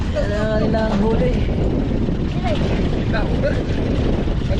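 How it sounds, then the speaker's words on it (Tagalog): Strong wind buffets the microphone outdoors near water, a loud constant rumble and roar, while people talk over it. "Lakas ng hangin dito."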